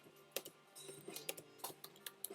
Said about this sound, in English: Oh, look, I'm typing.